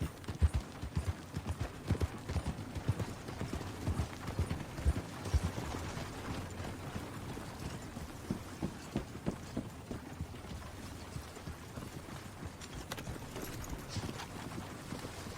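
Horse hooves clip-clopping at a steady walking pace in the video game Red Dead Redemption 2, soft rhythmic thuds over a quiet outdoor ambience with light wind.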